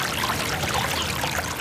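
Water runs steadily in a garden water feature in a Milwaukee garden, a continuous close trickle and splash with no pauses and no voices.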